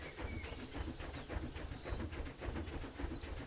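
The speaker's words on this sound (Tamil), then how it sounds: "அங்க பாரு குழந்தைங்களுக்கு ட்ரெயின் போகுது." A train ride in the video game Planet Zoo rumbles steadily along with rhythmic rolling clatter and faint hissing, a continuous mid-level ride sound with no talking over it.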